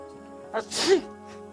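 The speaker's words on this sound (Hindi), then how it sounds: "कम वक्त ने छींक दिया।" A single sneeze close by and of moderate loudness, with a sharp burst following a short intake, set against a soft musical background.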